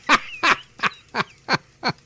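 A goose honk sound effect repeats six times in a quick, regular series, each honk loud, close and clear against a quiet background.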